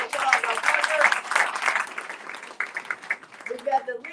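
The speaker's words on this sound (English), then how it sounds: "Give them a big round of applause" Applause from an audience at a community cancer awareness event, a dense wash of clapping that swells and then thins, with people talking over it toward the end.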